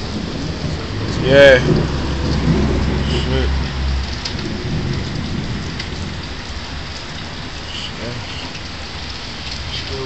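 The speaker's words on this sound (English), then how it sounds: "guys got caught in that rain, huh?" Heavy rain pours steadily on surfaces while a low roll of thunder rumbles early on, close and loud. Someone briefly speaks over the downpour.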